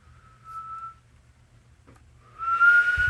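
A person whistles a steady single tone, a short held note and then a louder, longer one near the end, close and clear with no talking.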